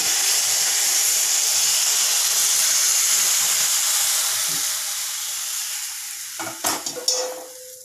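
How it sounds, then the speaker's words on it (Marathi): Hot water poured into a pan of cooking dill greens sets off a loud, steady hiss of sizzling steam that slowly fades, with a few sharp clinks near the end. "आता आपण भाजीमध्ये गरम पाणी ॲड करूयात।"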